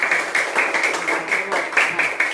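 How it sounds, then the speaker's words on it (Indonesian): Students in a classroom clap for a group's presentation during a practice-teaching lesson, a steady, close run of many hands clapping in quick, slightly uneven bursts. "tepuk tangan untuk presentasi"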